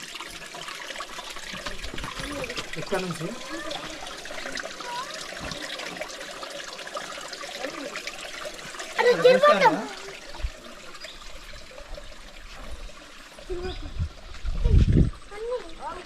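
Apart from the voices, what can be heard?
waterfall in a forest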